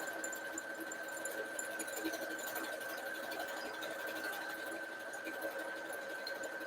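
Sewing machine stitching a buttonhole on a skirt, a fast continuous mechanical hum and rattle running steadily and close up with no talk over it.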